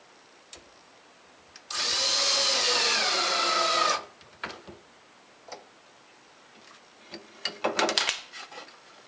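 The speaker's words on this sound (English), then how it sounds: "drive the screws into the little holes to lock it in place" Power drill driving screws into drawer slide holes while building workshop cabinets, with one sustained whirring burst about two seconds long, then scattered ticks, clicks and handling knocks of the slide and wood.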